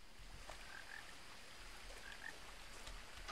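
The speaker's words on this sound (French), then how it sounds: "Il y a un crapaud." Toad croaking in the video game What Remains of Edith Finch, a few faint chirping croaks over a soft rain-like hiss, quiet and distant.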